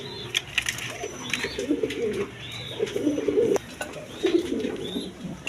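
Maltese pigeons, a pair, coo in repeated low throaty rolls, fairly close, with brief higher chirps from other birds over a steady background murmur.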